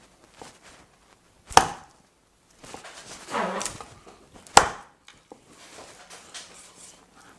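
A heavy knife chops through a whole raw chicken on the bone, portioning the thigh and breast with two loud cleaving thuds on a board, separated by softer cutting and shuffling noises, close and without speech.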